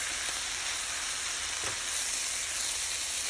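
Minced garlic and canned corn sizzling in a hot pan for arroz con pollo while being stirred, a loud steady frying hiss with faint scrapes of the spoon, close up and without talk.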